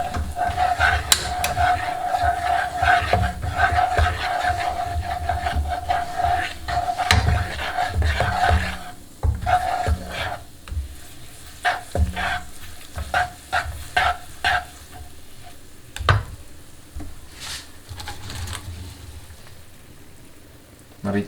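Chicken frying in a honey sesame sauce is stirred in a pan, with steady sizzling under irregular scraping and knocking of the utensil against the pan, the clatter growing sparser toward the end.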